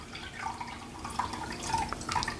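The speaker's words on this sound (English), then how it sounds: "go ahead and pour a cup in here." Cold brew coffee poured from a French press into a cup, heard as a quiet, uneven trickle with small drips and splashes close by.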